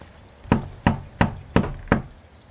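Five firm, evenly spaced knocks on a wooden door, close and loud, with a short pause between each and no voices.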